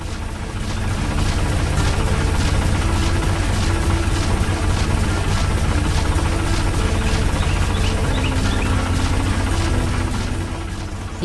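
Machinery roars in a busy animated factory with a fast-moving conveyor belt, a loud continuous low droning rumble with a dense mechanical rattle, steady throughout and with no voices.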